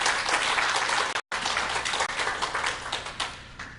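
A church congregation gives an energetic round of applause for its choir during a Korean church Sunday service, dense and loud clapping with a brief dropout before the clapping resumes and thins out.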